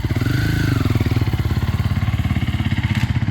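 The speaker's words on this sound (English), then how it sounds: "we're going to fire up an 85" A GasGas 85 dirt bike engine fires up and settles into a rapid, even two-stroke idle, close and loud, with a brief rising blip at the start.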